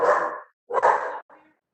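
Several loud, close dog barks in quick succession, heard during an online video meeting, with a short pause between bursts and a softer final yip.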